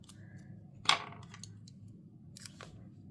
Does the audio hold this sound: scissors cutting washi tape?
yes